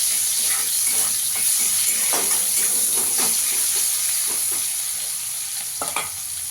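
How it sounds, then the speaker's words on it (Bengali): Chopped onion frying with black cumin for bhola fish curry, a loud continuous sizzle broken by repeated scraping stirs of a spatula in the pan, with no talking. "পেঁয়াজটাকে একটু লাল লাল করে ভেজে নেবো আগে।"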